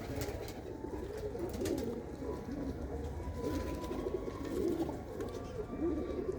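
Pigeons cooing softly in a Punjab loft setting, low repeated coos heard faintly under background noise, with a voice murmuring nearby.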